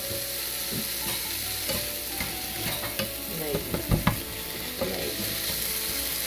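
Homemade scrambled eggs with tomatoes frying in a pan, a close, steady sizzle broken by scraping and clacking of a spatula stirring, with no voices.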